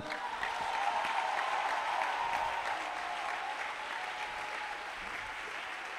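A church congregation claps together in a dense, sustained burst of applause that swells early and then holds steady, filling the room for several seconds.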